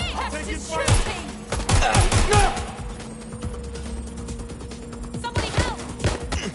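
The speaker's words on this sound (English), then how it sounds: "He's shooting!" Video game gunfire on PS4 sounds as bursts of sharp shots and rapid volleys, with clustered cracks early on and more near the end, under game noise and a voice.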